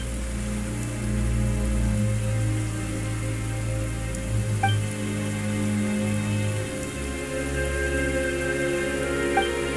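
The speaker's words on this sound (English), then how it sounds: "Why is it raining all of a sudden?" Steady rain falls in the video game Genshin Impact, a soft continuous patter of drops on surfaces beneath a sustained low musical drone, with a few faint chime-like tones drifting in.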